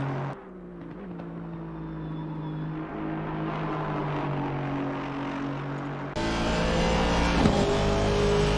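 A race car engine in Assetto Corsa Competizione at Spa drones steadily throughout at a sustained high pitch, growing louder and harsher near the end as the car passes close.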